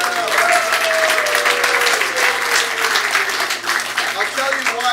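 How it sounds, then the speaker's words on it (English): Audience at an improv student showcase breaking into steady, sustained applause with scattered cheers, loud and close, and a voice audible over the clapping at the start. "Give yourselves a round of applause."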